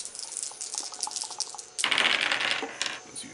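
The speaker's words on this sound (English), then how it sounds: "So you're throwing dice everywhere." Dice thrown onto the floor during a board game clatter with small hard clicks that scatter and bounce, then a louder tumbling rattle settles into a few last taps.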